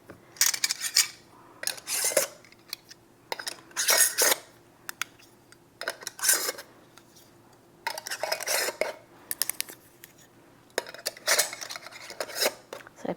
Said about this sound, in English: I'm going to come back and tighten these a smidge.